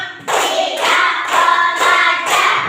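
Several people clap in unison to a counted beat, producing four or five loud, regular bursts close by, with group voices calling the count over them.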